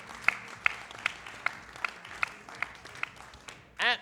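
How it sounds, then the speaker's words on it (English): Applause for the winning team of a speed debate, sparse evenly spaced claps rather than a full crowd roar, ending with a short voice at the close. "Give them a round of applause, ladies and gentlemen."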